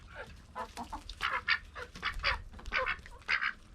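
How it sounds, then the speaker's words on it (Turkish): Several ducks quack in quick, overlapping bursts, close by and fairly quiet. "Şu ördekler de suları leş gibi yapıyor."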